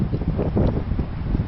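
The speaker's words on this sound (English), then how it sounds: "pretty windy, so it's going to be cool" Wind gusts across snowy northern Utah mountains, buffeting the microphone with uneven, low rumbling bursts over a faint rustle for a moment, with no one speaking.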